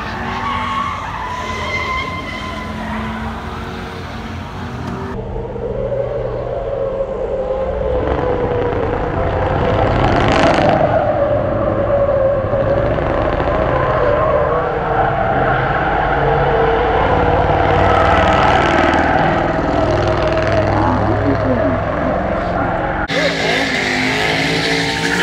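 Mopar car doing a burnout at an Indianapolis burnout competition, a sustained loud tire squeal over a revving engine lasting many seconds, with crowd noise and voices around it.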